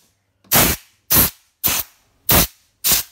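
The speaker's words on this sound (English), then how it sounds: "Air duster. Just spray it." Air duster spraying to clean a quadcopter motor: five short, loud hissing bursts in an even rhythm, each about a quarter second long with brief pauses between, close to the microphone.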